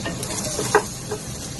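Squash pieces going into a hot pan for ginataang kalabasa, a brief crackling sizzle with a sharp spike of spattering, then steady low frying hiss.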